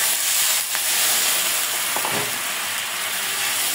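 A spice paste with dried chilli paste and salt sautés in a pan with a loud, continuous hissing sizzle, broken by a couple of brief scraping stirs and no voices.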